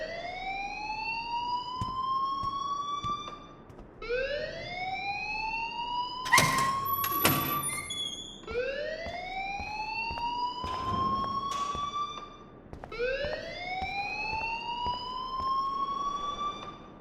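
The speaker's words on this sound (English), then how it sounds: "please turn off that alarm since that's your job" A school fire alarm in the video game Life Is Strange wails in repeated rising siren sweeps, loud and continuous, with a brief burst of sharp electronic tones partway through.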